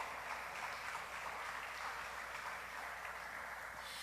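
A church congregation claps along in praise, steady and continuous rhythmic applause filling the room throughout, heard somewhat distant and without clear voices on top.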